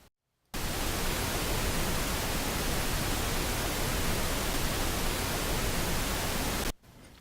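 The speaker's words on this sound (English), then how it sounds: "let's just listen to what pink noise is by itself" A steady wash of pink noise, a full, even hiss that starts abruptly after a short silence and cuts off near the end.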